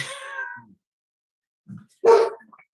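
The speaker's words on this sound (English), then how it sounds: "the dog is barking" At home, a dog gives a couple of short barks with quiet gaps between them, close to the microphone. The sounds are brief and there is no talk.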